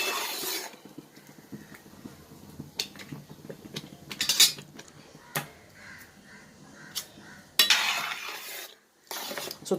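A spoon scrapes and knocks around a pan of jackfruit and jaggery jam being stirred, irregular clatters against the metal, with a crow cawing faintly outside and the occasional quiet pause.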